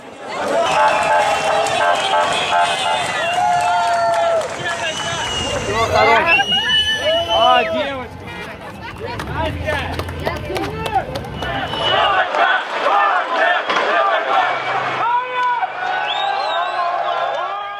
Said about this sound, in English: People in Russia were seen cheering the Wagner rebels as they took over a city.